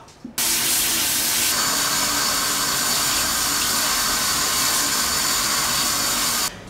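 A kitchen tap is turned on and runs water hard for about six seconds, a loud, steady close rushing hiss, then stops.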